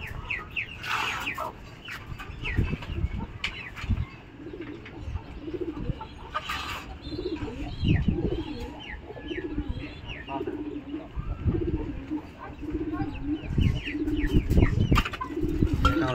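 Pakistani Teddy pigeons coo in a loft, repeated low throaty coos from several nearby birds overlapping in an uneven rhythm, with occasional chirps and wing rustles.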